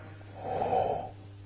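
One slow, deep inhale through a relaxed body, a soft breathy rush that swells and fades over about a second, close and clear above a faint low hum.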